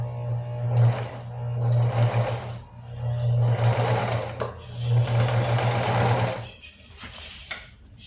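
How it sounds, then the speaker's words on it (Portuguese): A sewing machine stitches the crotch seam of capri trousers, running in three loud, steady bursts separated by brief pauses while a backstitch reinforces the seam, ending with a few short clicks. "Tô chegando aqui na costura do gancho e eu vou fazer um retrocesso quando eu chegar nela para dar uma reforçada na costura"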